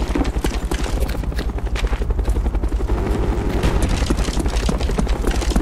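Cobra attack helicopter flying in Call of Duty: Black Ops, its steady rotor chop thumping throughout with dense rapid gunfire crackling over it in a busy multiplayer match.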